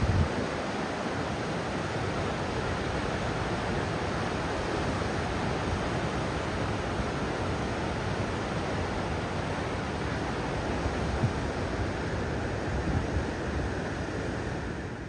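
Atlantic ocean waves and surf on the Cornwall coast make a constant, loud roar of breaking water, even and unbroken with no voices.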